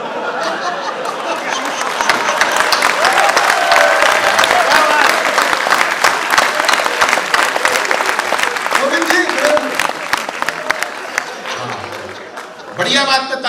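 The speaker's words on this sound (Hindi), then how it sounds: "बढ़िया बात पे ताली आनी चाहिए।" Audience clapping at a Hindi political satire comedy poetry show, loud sustained applause with scattered chuckles and laughter, then a voice speaking at the end.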